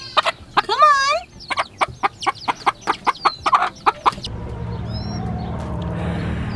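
Chickens in a small homestead chicken run cluck and squawk in a rapid series of sharp, close calls, then fall quiet as a steady low background noise takes over.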